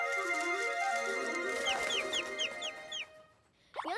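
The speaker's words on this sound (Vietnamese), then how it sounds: "Quá ra là chim nhỏ." A little cartoon bird chirps in a quick series of high, bright tweets over playful background music in a children's cartoon, close and clear, ending with a brief rising squeak.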